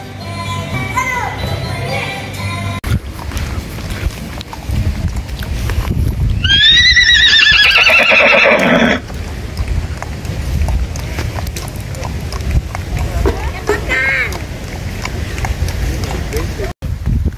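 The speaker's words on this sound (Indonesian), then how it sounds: "Adik Kaisan enggak naik kuda" A horse whinnies loudly for a couple of seconds at a holiday playground, with hooves clip-clopping, a voice, and a busy crowd around it.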